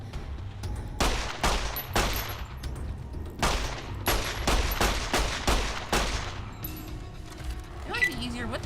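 Rapid bursts of gunfire from a weapon in Fallout: New Vegas, loud, close shots in quick clusters over about seven seconds, then a pause with faint game sounds.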